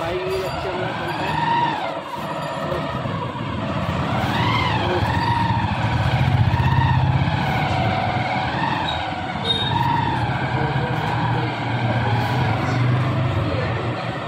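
A motorcycle rides along a road at night, its engine note rising and falling steadily through repeated throttle changes, with voices talking over the ride.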